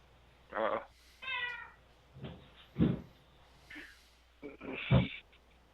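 A pet cat meows several times indoors, close to the microphone, with short separate calls spread across the stretch and soft breathy noises between them.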